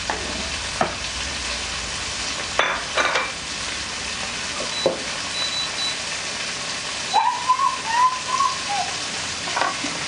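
Garlic and onion fry in hot oil with a constant crackling sizzle, broken by occasional scraping stirs and clinks of a utensil against the pan.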